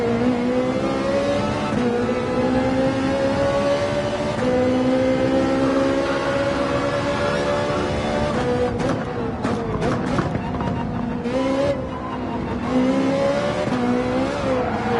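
Ferrari race car in Gran Turismo 7 on the Sardegna circuit, its engine droning and revving steadily, with pitch climbing and dropping through gear changes and brief tire-scrub bursts, loud and continuous throughout.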